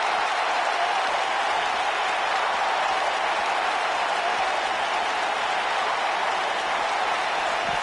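A virtual arena crowd in the wrestling game WWE 2K19 applauds and cheers in a steady, dense wash of clapping that holds at an even level for about eight seconds.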